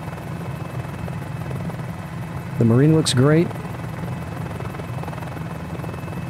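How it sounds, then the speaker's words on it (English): A Mini-500 helicopter flying in a flight simulator game gives a steady, droning rotor and engine hum throughout, with someone briefly talking over it midway. "This is just a perfect helicopter for sightseeing."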